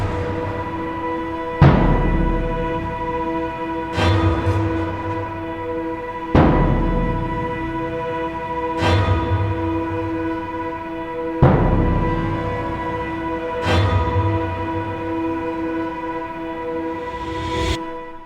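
Deep booming suspended bass drum hits land every couple of seconds, each paired with a sharp cluster of stabbing strings over a sustained orchestral drone.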